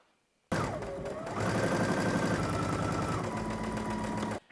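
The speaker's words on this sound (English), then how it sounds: "we're going to go ahead and do a stitching line just along the top, a little top stitching" A sewing machine runs steadily for about four seconds while top stitching along the top edge of a cardigan, a close, continuous motor whir with a rapid needle chatter that starts abruptly and cuts off at the end.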